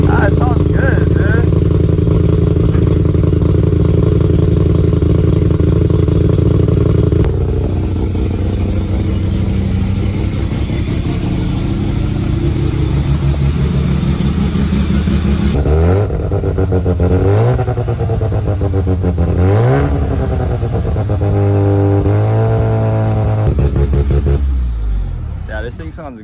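A Mazda RX-7 turbo engine revs up and settles, with loud, close idling and several sharp throttle blips in the second half as people talk nearby.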